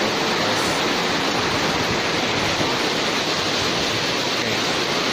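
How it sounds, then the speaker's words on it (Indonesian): Steady heavy rain hammers an outdoor market at Martapura, a continuous near roar of falling water that never eases across the clip and has no talk. "Ini suasana hujan banget."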